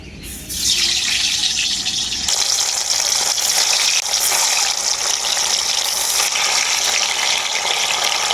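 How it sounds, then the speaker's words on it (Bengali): Chhana sweets fry in hot oil, a loud, steady, close hiss that swells after a brief quieter start and then holds a dense roar throughout, with no voices. "এগুলোকে আমি খুব বেশি হালকা করে ভেজে ছানার এই মিষ্টিগুলোকে আমি হালকা লাল লাল করে ভেজে নিলাম"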